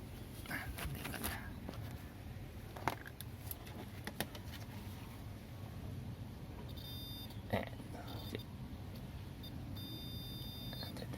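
A multimeter on continuity mode beeps while probing the wiring between a car battery terminal and the alternator's positive post. Short, faint, high beeps come near the end over quiet background rustle and handling noises.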